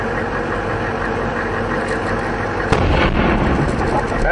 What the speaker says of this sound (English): Oh, you hear that explosion?